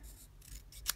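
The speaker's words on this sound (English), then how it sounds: "I'm just going to trim that down a little. I'm going to trim it on either side." Scissors snip paper being trimmed for a handmade card, two or three soft close cuts in quick succession, quiet and without speech.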